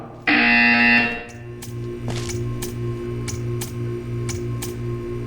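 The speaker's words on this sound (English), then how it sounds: "You will hear a buzzer." A loud electronic buzzer sounds for about a second, followed by a steady synthetic hum with soft repeating ticks, in the video game Portal 2.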